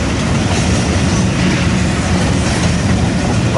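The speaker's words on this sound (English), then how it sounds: "we just had a westbound manifest come off the" Westbound manifest freight train passing on the Omaha Fremont subdivision, a loud, steady rumble and roar of rolling cars at close range, sustained without a break.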